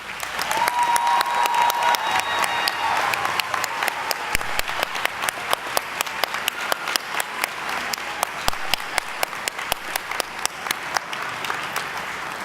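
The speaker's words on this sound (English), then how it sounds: "let's give our candidates a round of applause" A college commencement audience gives a steady, even round of applause for its graduating candidates, many hands clapping together at a rhythmic, unbroken pace, with no talking over it.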